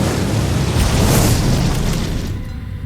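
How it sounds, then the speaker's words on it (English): Catapult explosions in the video game Elden Ring, set in Liurnia of the Lakes: heavy, continuous booming rumble with overlapping blasts, loud and dense throughout before thinning near the end. "Catapults coming in already."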